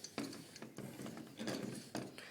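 CPU cooler heatsink mount tightened by hand, giving a few close, quiet ratcheting clicks and mechanical scrapes in short bursts, no speech.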